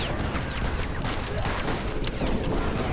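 Dense distant gunfire in a World War I battle game, a constant crackle of many rifles with scattered sharper shots over a rumbling background.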